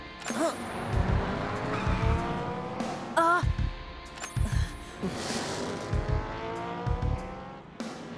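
Toy race cars named Aurora, Flash Mirage and Stormblade speed into a curve together, with loud whining motors rising and falling in repeated passes and sharp squeal-like tones cutting through.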